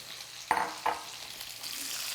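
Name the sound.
peeled garlic cloves sizzling in a skillet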